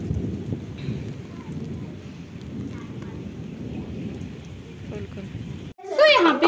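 Heavy monsoon-style rain falls in a dense, constant roar with deep thunder rumbling underneath. A sudden loud burst of sound cuts in at the very end.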